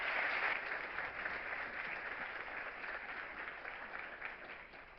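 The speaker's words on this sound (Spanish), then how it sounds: "Así que un fuerte aplauso para él" An audience applauds at a physics talk on collective electron behaviour in quantum materials. The clapping is steady and moderately distant, and it fades gradually over the clip.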